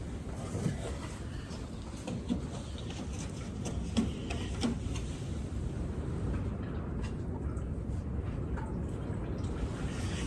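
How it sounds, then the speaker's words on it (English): Green antifreeze streaming from a 1959 Chevy Parkwood wagon into a catch pan, a continuous splashing trickle with scattered ticks and drips, close and steady throughout. "Not even dripping, it's streaming."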